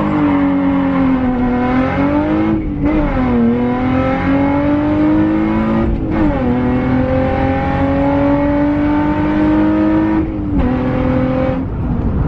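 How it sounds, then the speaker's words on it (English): A Nissan 350Z with traction control off launches from about 2500 rpm and pulls hard, its engine note rising through the gears in loud, steady sweeps with brief dips at each of three short-shifted upshifts. "We're gonna launch it like at 2500"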